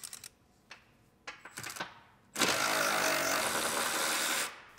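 Seats being unbolted from a 2019 GMC Sierra Denali 2500HD pickup: a few sharp ratchet clicks and clanks, then a loud, steady power-tool buzz that lasts about two seconds and stops.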